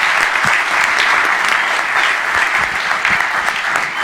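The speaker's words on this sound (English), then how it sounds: "Let's give these young men a nice round of applause." An audience at a Clark County public event applauds a group of young men, with dense, sustained clapping from many hands that stays loud and even throughout.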